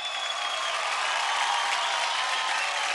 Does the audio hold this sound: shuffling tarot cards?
no